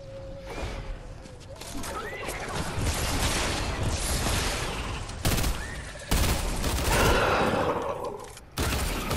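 Minigun fire in a video game comes as sustained, dense rattling bursts with a few sharp breaks and a loud final cluster, while voices talk faintly in the background.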